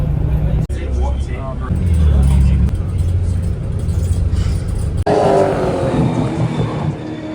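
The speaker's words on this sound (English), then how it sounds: "We're on the bus." Interior rumble of a moving shuttle bus at Bathurst, a steady low engine and road drone with clicks and shifts in tone, and people talking over it partway through.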